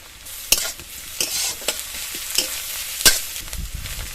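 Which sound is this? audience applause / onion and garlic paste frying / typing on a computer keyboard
onion and garlic paste frying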